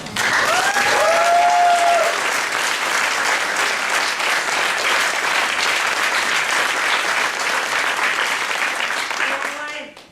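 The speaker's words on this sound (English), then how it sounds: "Let's give yourselves a round of applause." Audience applause at a gathering, a loud, sustained wall of many hands clapping, with brief voices and calls rising over it at the start and end before it drops away.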